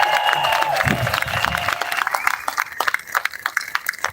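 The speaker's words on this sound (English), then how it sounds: "So go ahead and clap it up for all of you right now." Crowd at a No Kings Day rally in Washington DC applauding and cheering outdoors, a sustained wash of clapping with scattered shouts that thins into sparser individual claps toward the end.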